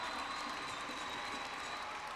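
A volleyball crowd at a 1993 Ball State versus IPFW men's match applauds during a timeout, a dense, steady wash of clapping heard from a distance without a break.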